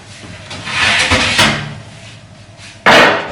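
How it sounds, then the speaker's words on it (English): A kitchen drawer opens and a baking tray is pulled out with a rumbling slide and clatter, then a sharp metallic clank near the end, close and loud. "So let's get our baking tray out"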